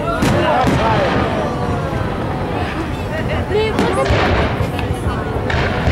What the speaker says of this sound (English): Those are 3D fireworks.